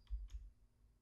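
Two quick keypresses on a computer keyboard, the Alt key and the letter E pressed as a shortcut, heard as a pair of soft, close clicks about a fifth of a second apart, followed by quiet room hum.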